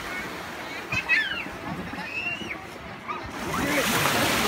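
Seawater sloshes and splashes steadily around a seaside spot, with a wave surge swelling louder near the end, while children and adults talk and call out over it.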